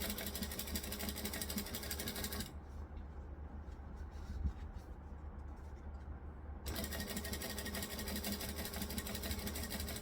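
A sewing machine runs steadily while top stitching a tea towel topper, a loud continuous motor whir with rapid needle clatter that stops for a few seconds midway, then resumes at full speed.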